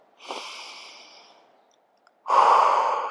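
Two deep breaths during a floor yoga sequence for the shoulders: a long audible exhale, a pause, then a louder, rushing breath, close and alone.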